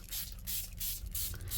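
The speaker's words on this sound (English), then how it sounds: "Where it's thicker, I still want to spray it some more." Acrylic ink sprays from a spray bottle onto paper in several short, soft bursts, each a close, quiet hiss repeated in an uneven rhythm with no voices.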